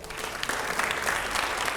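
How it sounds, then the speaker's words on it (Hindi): Loud audience applause at a televised panel with actor Ravi Kishan and five editors: a thick, even burst of many hands clapping together, sustained and close, with no talk over it. "लेकिन जोरदार तालियां हो पहले।"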